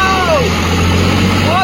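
A prize-winning tractor being driven, its engine producing a steady low rumble with a constant hum throughout, close and loud, with some faint higher squealing tones over it.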